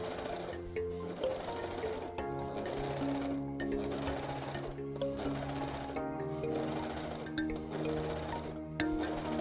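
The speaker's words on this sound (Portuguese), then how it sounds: "Agora começar a costurar." Gritzner 788 overlock machine stitching elastic tape onto fabric, a close, steady mechanical whir with rhythmic clatter running throughout, briefly easing and resuming.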